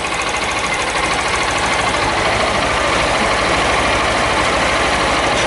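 A Honda Titan 160 driving-school motorcycle, its stator modified for full-wave charging and fitted with a new regulator, idles steadily and loudly up close with an even low pulsing throb and no talk.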